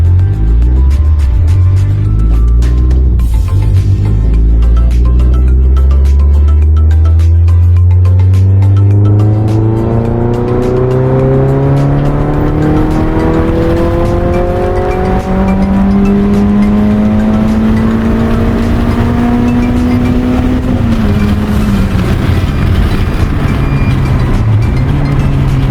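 Tuned Renault car on a quick test drive in Dubai, engine loud and close as it accelerates hard through the gears, pitch climbing repeatedly in long pulls with tyre noise beneath.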